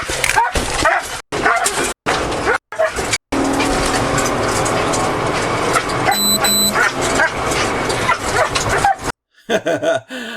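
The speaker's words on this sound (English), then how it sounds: "Always love to hear the dog in the background." A dog barks and yelps amid loud, busy background noise with engine roar, the sound cutting in and out in choppy bursts.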